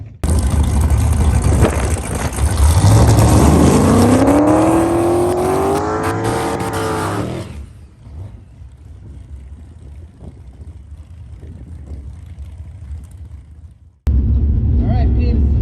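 A race car engine on its first test pass of the year revs hard and climbs in pitch for several seconds, then drops to a quieter rumble before a loud burst returns at the end.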